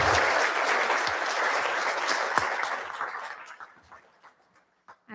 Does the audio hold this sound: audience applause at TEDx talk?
yes